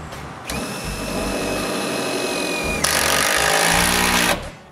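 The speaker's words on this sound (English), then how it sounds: "Then we screw it to the plywood." A power drill drives screws through an eave starter strip into roof plywood, with two long continuous whirring runs back to back, the second one louder and higher, close and with no talk.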